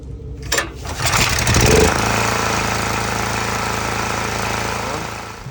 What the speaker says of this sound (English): Now we're gonna see if it starts with a new carb.